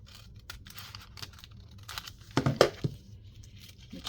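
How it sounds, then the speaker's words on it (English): Scissors cutting open a bag, soft snips and a few crinkling, tearing crunches up close, quiet and sparse with a short louder cluster in the middle. "We're gonna cut this open."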